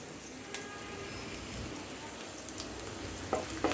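Chopped garlic, onion and sliced green chillies fry in hot oil with a steady, close sizzle and a few faint stirring clicks, no talking.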